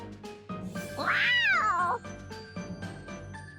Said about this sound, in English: I choose to believe that that is the exact same cat that ran away from Jeritza